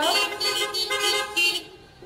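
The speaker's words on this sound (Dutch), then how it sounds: "laat u die toeters horen" Horns toot at an award ceremony in a series of loud, close blasts lasting about a second and a half, then fade out.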